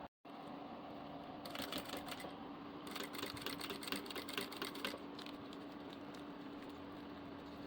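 Sewing machine running steady stitching along the edge of a diaper bag with a portable changing pad, loud and close, with bursts of fast rattling needle strokes and brief pauses, no voices.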